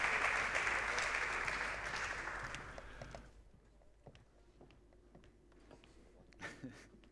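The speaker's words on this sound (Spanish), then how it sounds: "Vamos a recibirle con un aplauso." Audience applause in a conference hall in Bilbao, welcoming a guest speaker, fairly loud at first and then thinning out after about three seconds into scattered claps and faint room noise.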